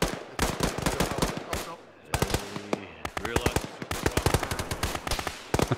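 Automatic gunfire in the ShackTac military video game: dense, rapid bursts of shots with brief gaps, loud and close, with voices talking now and then.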